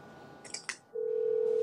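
A phone line connecting on a callback: a couple of short electronic blips, then a steady ringback tone sounds alone, low in level.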